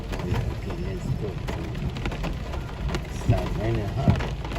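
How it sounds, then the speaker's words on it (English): Heavy rain beats steadily on a car driving through New York City, a dense hiss with faint drumming, while people talk inside the car. "Start raining hard."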